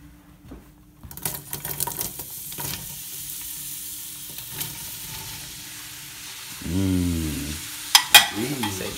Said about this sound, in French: Après le beurre est fini, vous pouvez ajouter les oignons.